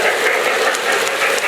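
A Lionel O-gauge model train runs around a Christmas display layout, a steady close whirring rumble with faint clicking from the track, continuous and fairly loud.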